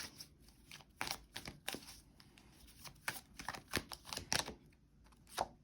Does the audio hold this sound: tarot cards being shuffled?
yes